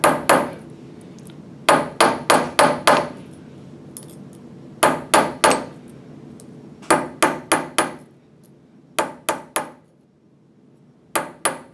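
Metal hammer strikes a rivet tight in quick bursts of three to five sharp, ringing blows, separated by short pauses, loud and close with no talking.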